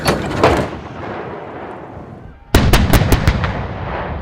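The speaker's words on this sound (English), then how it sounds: "the guns of 4th Regiment Royal Artillery are supporting 5RA's training and experimentation" Royal Artillery guns firing on the Otterburn Ranges training area in Northumberland, with a loud blast at the start that rumbles away, then a second powerful boom followed by a rapid series of sharp, echoing cracks.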